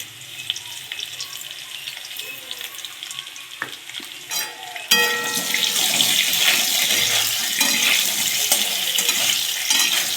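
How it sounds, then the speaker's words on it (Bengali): Vegetables frying in a pan with salt, faint clatter and stirring at first, then a loud, steady, close sizzle for the rest of the time, with no talking. "নুনটাকে দিয়ে ভালো করে ভেজ ভাজবো"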